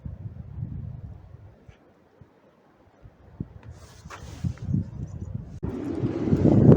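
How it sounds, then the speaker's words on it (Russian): Gusty wind buffets the microphone, dropping briefly then rising into loud, roaring rushes of air toward the end. "Ой, какой ветер у нас начался."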